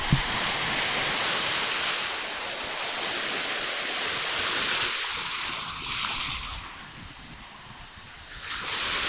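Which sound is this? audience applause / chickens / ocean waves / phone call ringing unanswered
ocean waves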